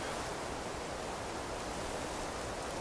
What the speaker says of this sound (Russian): Ветер шумит.